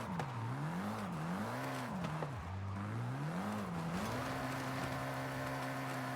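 A car in Forza Horizon 5 drifting into a corner in fourth gear, engine pitch swinging up and down in rapid waves of throttle, then holding a steady high drone under faint tire noise.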